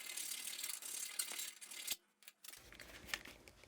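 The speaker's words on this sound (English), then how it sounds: "first I'm going to go in with a rounded file, get any burrs or anything like that out." Close, rapid scraping of a rounded file deburring metal during a front leaf spring installation, in repeated strokes, a brief pause, then more rasping strokes.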